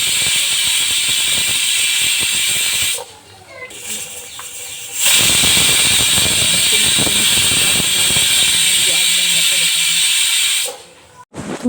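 Loud, continuous hissing of steam escaping from a pressure cooker whistle while steaming dal, dipping briefly, then surging back and running steadily before cutting off near the end.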